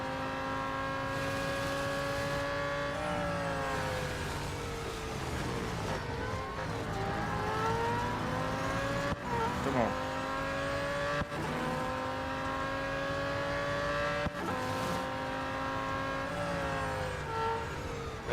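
Racing car engine in the mobile game Real Racing 3 revs and climbs through gears, steady and loud, with brief tire squeals and shifts; a voice speaks briefly over it.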